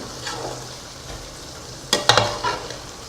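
Chicken being fried and stirred in a pan for green masala chicken biryani, with a low background hiss and then a burst of scraping, sizzling stir sounds near the end.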